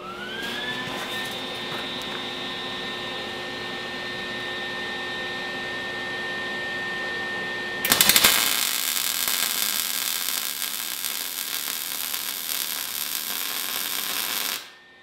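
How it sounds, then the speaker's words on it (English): A lengthened vehicle drive shaft is welded, a steady crackling hiss starting abruptly and running for several seconds before cutting off, after a long droning whine from a nearby machine. "So now we'll do some welding in between here."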